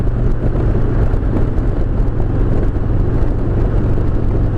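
Steady, loud rumble of a 2018 Harley-Davidson Road Glide Ultra's Milwaukee-Eight engine cruising at interstate speed, a low, throbbing drone mixed with rushing wind noise, heard up close and without any talk.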